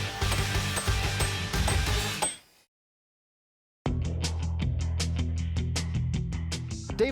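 Ratchet wrench clicking as it tightens bolts on a cliff-edge deck under construction, a steady run of sharp metallic clicks, then a pause of silence before another busy run of close ratcheting.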